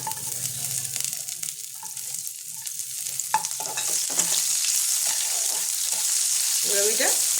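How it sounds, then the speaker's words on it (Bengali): Chopped onion frying with whole garam masala in a home kitchen pan, a steady close sizzle with scraping stirs of a spoon throughout, growing slightly louder in the second half. "এবার আমি এটা একটু লাল লাল করে ভেজে নেব।"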